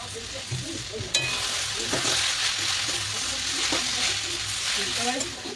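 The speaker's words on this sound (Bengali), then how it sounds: "তো এটা দিয়ে ভালোভাবে একটুখানি কষিয়ে নেবো।" Ground spices for paneer masala fry in a pan, a continuous close sizzle broken by a sharp clink and scraping stirs, with no one talking.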